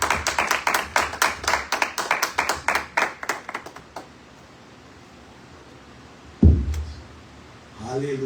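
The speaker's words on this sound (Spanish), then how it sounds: "Dele un aplauso fuerte al Señor." A church congregation claps in a quick, loud rhythm that fades out after about four seconds. A pause follows, then a thud and a voice speaking.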